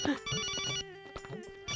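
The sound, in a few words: telephone ringing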